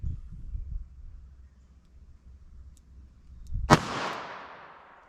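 A single sharp .22 Magnum revolver shot cracks out after a quiet stretch, loud and close with a short ringing decay, preceded by faint low rumbling.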